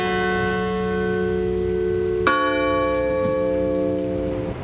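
Church bells toll at a 9/11 memorial, a sustained ringing tone with a fresh loud strike midway, its overtones ringing out and slowly decaying, heard alone.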